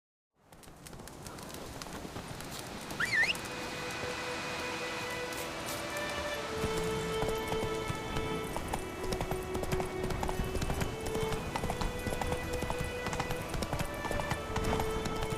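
Horse hooves clip-clopping in The Witcher 3 video game, a continuous rhythmic trot under ambient game sound with birdsong and tonal music, steady and moderately loud throughout.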